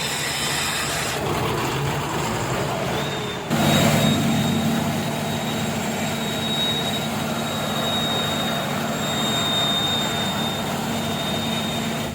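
A diesel engine being run during an engine flush cranks with a brief scraping burst, then settles into a steady, loud, continuous idle rumble with a faint high whine.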